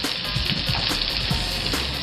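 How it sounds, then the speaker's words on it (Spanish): Pickle and olive oil are whisked together as more oil is added, a steady close wet swishing with quick rhythmic strokes, no voices. "Yo voy a ir batiendo mientras agrego el aceite"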